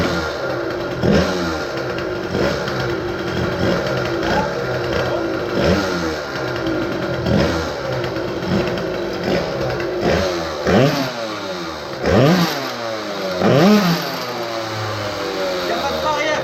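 A homemade snow drag engine starts and runs, revving up and down in repeated rising bursts that sound like a small motorcycle, loud and close, with people talking over it.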